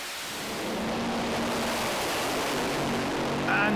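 A pair of top fuel dragsters makes a drag run at the Santa Pod FIA FIM European Finals, filling the clip with a thunderous, unbroken, distorted roar that builds slightly toward the end.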